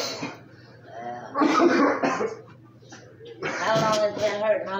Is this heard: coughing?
yes